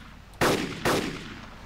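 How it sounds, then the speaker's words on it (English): Two sharp, loud M14 rifle shots crack out about half a second apart in Arma 2, each with a short rumbling tail over faint background ambience. "Lots of M14s going off"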